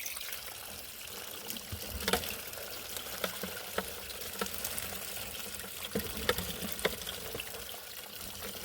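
Water washing a slow-fed bucket of clayish material through a gold sluice box outdoors, a continuous broad rushing trickle with scattered small splashes and gritty knocks running throughout.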